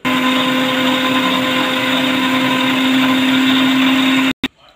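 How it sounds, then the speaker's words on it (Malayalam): A mixer grinder blends watermelon with water and sugar into juice, a loud steady whirring motor hum that runs continuously before cutting off abruptly near the end, with a brief final burst, no talking. "ഇനി നമുക്ക് മിക്സിയിൽ വെച്ച് ഇത് അടിക്കാം"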